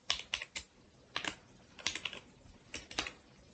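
Clicky computer keyboard keys are tapped in short bursts while a Python print command is typed, each cluster a few crisp keystrokes separated by brief pauses, close and fairly quiet with no talking.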